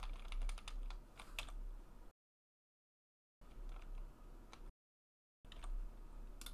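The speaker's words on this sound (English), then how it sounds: "so I press one on the keyboard" Keys on a computer keyboard clack in quick bursts of several taps, separated by short silent gaps, faint and close with nobody talking.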